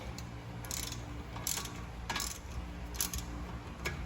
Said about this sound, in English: So same thing, I'm going to put the wrench here. Take my 13mm. I'm going to loosen this bolt.